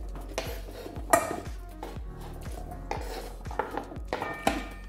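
Cucumber pieces drop into a bowl with a run of soft clunks and clinks, several close, irregular knocks of food and utensil against the dish.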